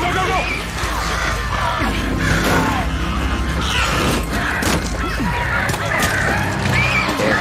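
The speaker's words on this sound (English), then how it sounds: "Goddamn crows. Goddamn crows." Infected crows shriek and caw in a frenzied swarm during an attack in the video game Days Gone, harsh honking cries layered over a loud, constant din, with a voice shouting over them.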